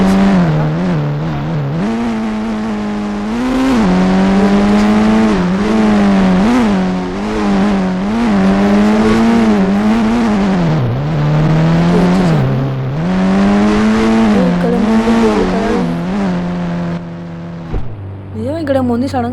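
A golden Rolls-Royce engine drones steadily, its pitch rising and falling as the car drives on, loud and close, until it cuts off near the end.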